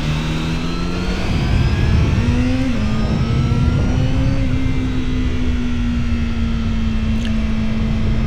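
A 2025 Honda CBR1000RR-R Fireblade SP superbike pulls away on a race track, its engine note rising steadily through a high, strained whine that stays loud and continuous throughout, with no voices.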